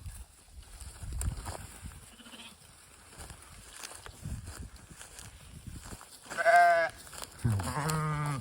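Sheep chew and shuffle up close with soft munching and rustling, then give two loud bleats near the end.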